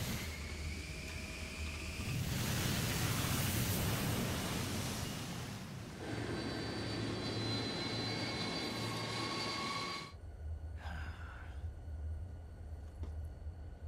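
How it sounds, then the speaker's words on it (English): Plane engine in the video game Metal Gear Solid 3, a loud, steady roar that swells, drops back, then cuts out abruptly near the end before a lower rumble resumes. "and then she crashes the plane"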